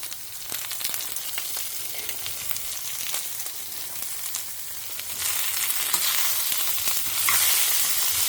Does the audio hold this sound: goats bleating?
no